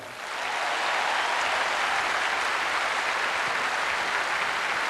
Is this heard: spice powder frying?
no